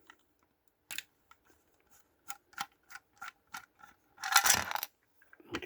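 Small triangular screws being undone on a 1956 Holden FE Special Sedan die-cast model car: a series of light, close clicks and scrapes, sparse and irregular, with a denser rattling burst near the end, no voices.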